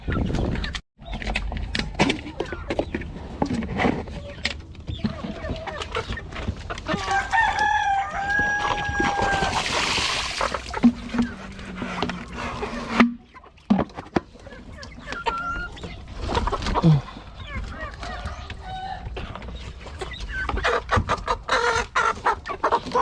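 Chickens cluck and chatter nearby on a farm in the Philippines for a long stretch, with occasional crowing and brief mechanical whirring breaking through the flock noise.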